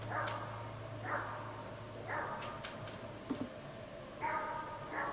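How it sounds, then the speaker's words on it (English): A dog barks repeatedly at a distance, several evenly spaced barks about a second apart over a low steady hum, faint and without any talking. "Another dog barking."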